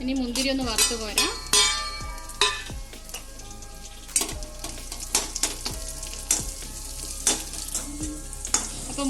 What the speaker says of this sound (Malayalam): ഇനി മുന്തിരി ഒന്ന് വറുത്ത് പോരാ.